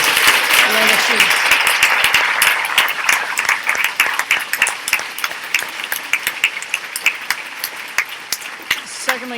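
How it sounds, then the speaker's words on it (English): A school winter concert audience applauds, with loud, dense clapping that thins toward the end, ending in scattered claps and a brief voice. "can I first have a round of applause for the music teachers?"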